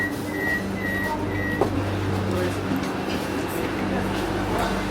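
Steady rumble of a Vande Bharat Express train in motion in Kerala, India, heard from inside, with a droning hum and faint tonal whine, while quiet voices murmur underneath.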